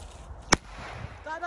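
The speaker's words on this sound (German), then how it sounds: "Achtet auf den Böller, Leute." A single extreme Böller firecracker detonates outdoors in the rain, a sharp, loud, very brief bang standing out from steady background noise, with faint voices around it.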